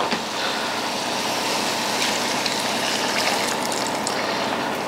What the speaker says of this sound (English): So I'm adding a good just over 1 cup of water.